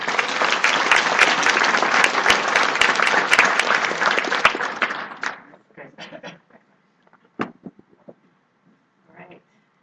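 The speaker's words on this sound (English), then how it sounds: "So big round of applause for Lori and Carlos." An audience at a storytelling talk breaks into a hearty round of applause, full and steady for several seconds, then tapering off into a few scattered claps and stray sounds.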